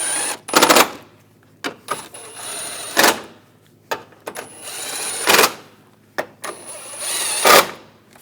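Headlight mounting bolts on a 2014-2018 GMC Sierra are driven in with a power tool, giving several short whirring bursts separated by pauses and small clicks, close by.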